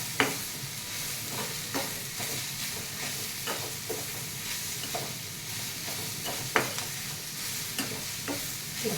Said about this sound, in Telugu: తర్వాత ఇందులోకి పసుపు, ఇంట్లో వేసి కొంచెం ఇలా కలపండి.